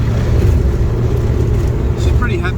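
Morris 1100S car cruising steadily at highway speed on the Hume Highway in Australia, a continuous low engine and road drone throughout, with a faint short whine near the end.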